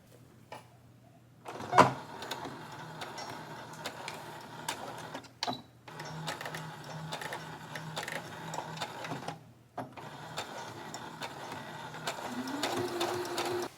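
A sewing machine runs in long steady stitching bursts while re-hemming high-waisted pants, with a sharp knock near the start and brief pauses between runs; close and moderately quiet.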